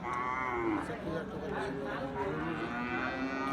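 Cattle, including bulls, mooing and lowing amid a busy cattle market crowd, with people chattering throughout.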